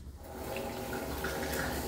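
Tap water runs steadily over food being washed at a sink, a close continuous splashing rush with no talk.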